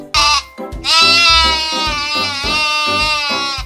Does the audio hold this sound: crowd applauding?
no